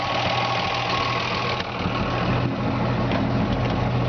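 A 1953 Ford F-100 pickup truck engine idles steadily up close, a low even rumble with a faint rhythmic knock and no voices.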